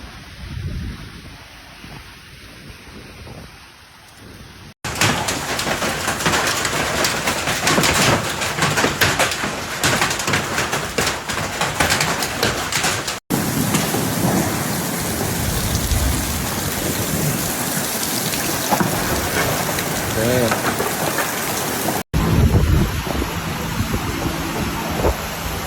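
Heavy rain pouring in a thunderstorm over Brisbane amid hail and strong winds, a loud dense continuous roar across several abrupt cuts, with thunder rumbling beneath the downpour.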